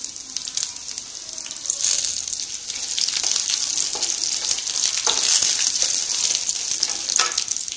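Spices and black pepper roasting in a pan for a manathakkaali keerai chutney give a continuous close sizzle with scraping stirs, steady and fairly loud, with no voices.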